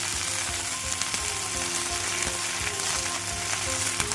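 Moringa leaves frying in a large pan for a chutney, a steady, close crackling sizzle with faint low hum beneath, continuous and even with no talking.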